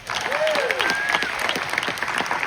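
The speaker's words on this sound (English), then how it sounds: "let's also please give a round of applause to a few other Hacks family members who aren't with us this evening." An audience at a series finale Q&A event applauds steadily, dense clapping filling the room throughout, with a presenter's voice talking over it.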